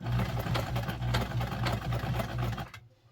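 A Penncrest 3400 sewing machine runs a buttonhole stitch, a steady rapid mechanical chatter with a low hum lasting nearly three seconds before it stops abruptly, close and alone.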